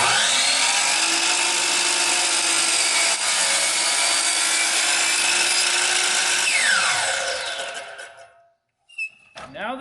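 A saw trims the end off a wooden glue-up: a loud, steady cutting roar for about seven seconds that winds down as the blade spins to a stop, followed by brief quiet and a few short knocks.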